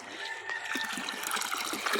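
Water is poured into an outdoor fish pond, making a continuous splashing trickle with small bubbling bursts throughout, at moderate loudness and with no talk over it.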